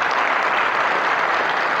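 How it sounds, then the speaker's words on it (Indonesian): A hall full of Islamic boarding school students applauding their teachers, a dense, even wash of clapping that holds steady throughout. "Tepuk tangan buat Masyayikhuna fi hadzal mahad insyaallah"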